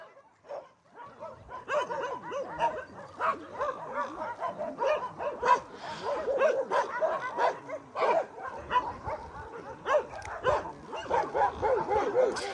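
Many dogs at the Takis Shelter bark, yip and whimper together in a close, continuous overlapping chorus that stays busy throughout, with no clear pauses.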